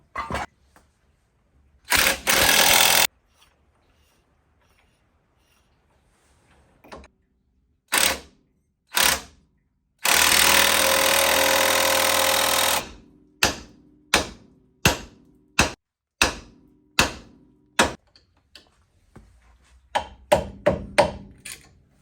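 A ball joint is hammered out of a car's suspension: sharp, loud metallic strikes arrive singly and then in a quickening series, with a longer grinding burst in between and quiet gaps around them.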